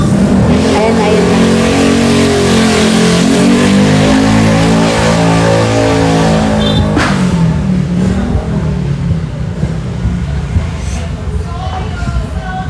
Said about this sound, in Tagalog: Wow, ang ingay ng motor.